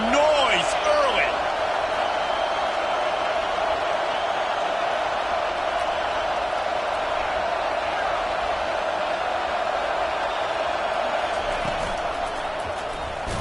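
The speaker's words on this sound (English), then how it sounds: "This crowd bringing the energy and noise early." A football stadium crowd keeps up a steady, dense roar throughout, loud and continuous with no clear breaks, and a voice talks briefly over it near the start.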